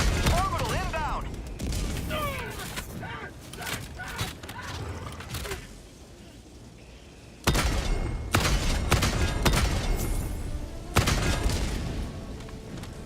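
Orbital strike explosions in the video game Helldivers 2 hit as heavy booming blasts in two loud bursts after a quieter stretch, with someone talking over the start.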